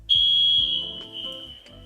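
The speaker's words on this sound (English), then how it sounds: "So that was the alarm noise I was talking about." An indoor electronic alarm in a room sounds a loud, steady high-pitched tone that holds for nearly two seconds and then weakens and wavers, close by and alone.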